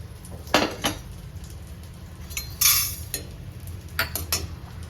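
A spatula clatters and scrapes in a pan as edible gum (dink) roasts in a little ghee for laddoos. Several close metallic knocks and rattles sound in short clusters over a low kitchen rumble.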